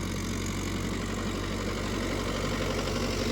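Low, steady engine drone from a Mahindra Yuvo Tech+ 585 tractor pulling a plough in a field, a continuous loud rumble with no talk and no clear change over the few seconds.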